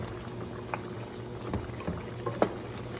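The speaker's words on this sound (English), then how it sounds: "Stir it little bit." A spoon stirs beef curry in a pot, giving a few soft, faint scrapes and taps over a low, steady bubbling simmer, with no talking.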